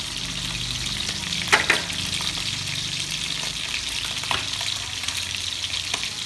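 Tomatoes, chili peppers and onions cook in a pot with water, giving a steady sizzling, bubbling hiss throughout with a couple of brief clinks of a utensil near the start.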